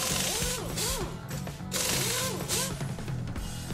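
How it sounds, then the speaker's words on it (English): A ratchet torques the sway bar link bolts to the axle on a 2008 4WD Ford F-250 during a front lift install, giving repeated rhythmic clicking strokes that are close and fairly loud, with no talking. "Attach the sway bar links to the axle and torque the bolts to 111 foot-pounds."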